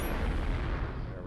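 A missile strikes an enemy ship in the space combat sim Exodus of Sol, a sustained booming explosion with a deep low rumble lasting over a second, close and loud, with no talk over it.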